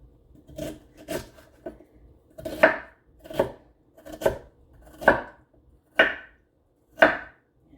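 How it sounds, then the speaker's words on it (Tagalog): Ginger being sliced thinly with a knife on a cutting board, about ten crisp, evenly spaced chops in a steady rhythm, close and clear with no talking. "So, nagayatin ko na lang yung luya para manipis."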